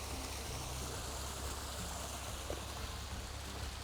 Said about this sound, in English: Nothing like a waterfall in the middle of the afternoon.